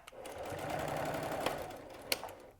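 A sewing machine back stitching through a bulky faux leather purse: a steady, close mechanical whir of the needle running for a couple of seconds, with a few sharp clicks, then slowing to a stop.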